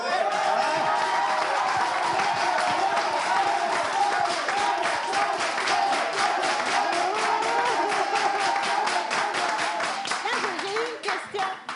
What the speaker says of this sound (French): On applaudit pour Joël.